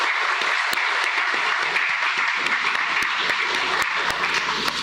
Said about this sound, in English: I think they both deserve another round of applause.